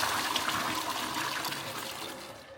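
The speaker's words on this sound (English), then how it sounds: "When you flush the toilet, it's got cleaning fluid in it as well." Water rushes and swirls steadily as a toilet flushes with cleaning fluid in the cistern, close and fairly loud, tapering slightly toward the end, with no talk over it.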